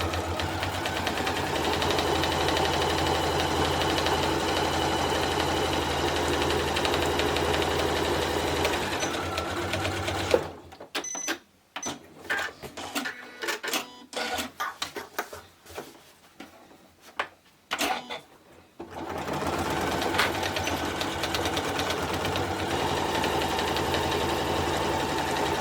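Home sewing machine stitching a fabric box seam, a steady loud motor whir running continuously, stopping briefly for a stretch of clicks and handling noises, then resuming the same even drone.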